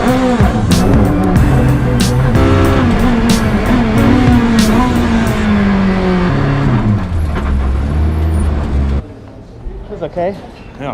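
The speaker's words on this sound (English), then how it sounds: "Good morning from a noisy pit lane. It's time to qualify. Drivers warming up." Race cars warming up in a noisy pit lane before qualifying, loud engine drones rising and falling close by with a passing whine, a voice talking over the din, then a sudden drop to a quieter background.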